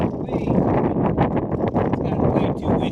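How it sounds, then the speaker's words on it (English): Gusty wind on a lake rumbles against the microphone from a fishing boat, continuous and close, with someone talking over it throughout. "It's gotten way too windy."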